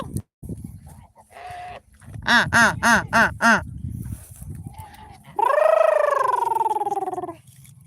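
Loud goose honking calls ring out in a rapid burst of five, then a single long, drawn-out honk follows, with some rustling and movement in between.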